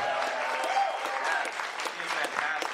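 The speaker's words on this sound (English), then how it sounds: "And I think that right there is deserving of a round of applause." Moderate applause from the audience at a juggling festival show, a steady wash of clapping with a few louder individual claps and light voices underneath.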